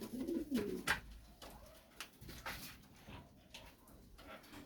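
Domestic pigeons kept for sale in Margilan coo softly and fairly close, in several low throaty calls with short gaps between them, over faint background noises.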